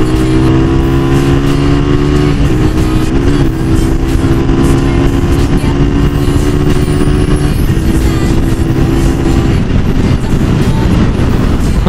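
A motorcycle rides along an empty road, its engine droning steadily with a loud, continuous hum and strong wind rumble throughout. The pitch shifts slightly now and then, and no voices are heard.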